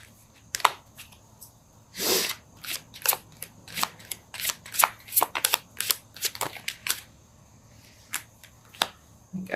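Close, crisp bursts of a tarot deck being shuffled by hand, with sharp irregular card slaps and riffles in rapid succession and one longer rustle, no speech over them.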